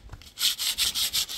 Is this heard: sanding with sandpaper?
yes